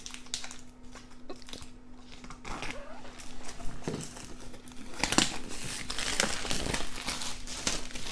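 Packaging of the Solomon Kane Face aux vampires board game expansion crinkles and tears as it is unwrapped, with irregular plastic rustles and crackles growing busier toward the end, close and clear.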